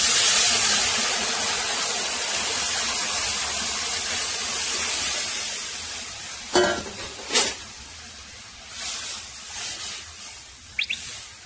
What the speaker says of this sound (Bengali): এখন দই যেটা মিক্স করে রেখেছিলাম সেটা ঢেলে দেবো।